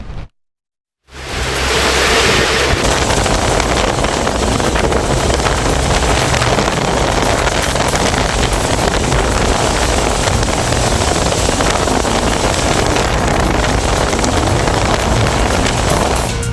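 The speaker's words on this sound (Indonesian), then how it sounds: "Inilah momen saat badai menerjang kawasan Suramadu yang direkam oleh seorang pemotor tepat di jembatan Suramadu" Storm gusts batter Suramadu bridge in East Java, roaring as a loud, steady broadband rush of wind and rain with heavy microphone buffeting, beginning after a brief silent gap and continuing unbroken.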